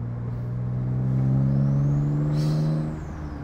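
A turbocharged V6 Honda Accord engine running with an open turbo inlet and no blow-off valve gives a loud steady hum that swells briefly with a rising turbo whine, then settles.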